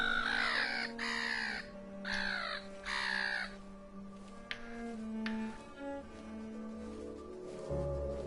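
A vulture calls in a barren landscape in the game Everything: a series of harsh, repeated caw-like cries over a sustained droning musical backdrop, with softer tones and rumbles following as the calls fade.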